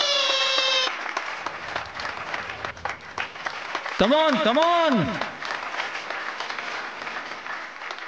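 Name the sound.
audience applause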